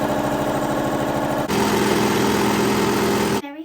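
Sewing machine running steadily while stitching the side seam of a Marnie blouse, a loud, close, continuous motor hum that shifts pitch slightly midway, then stops abruptly near the end.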